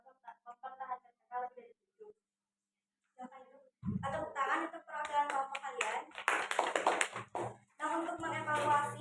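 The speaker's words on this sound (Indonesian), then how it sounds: "Tepuk tangan untuk perwakilan kelompok kalian." A classroom full of students applauds its group representatives after a chemistry buffer-solution lesson; a burst of hand clapping runs through the second half, mixed with children's voices and chatter, after a few seconds of talking and a short pause.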